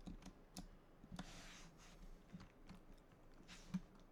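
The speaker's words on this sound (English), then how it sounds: "I'm going to type in" Faint, scattered key clicks from a computer keyboard while a search word is typed into Google, irregular taps in a quiet room.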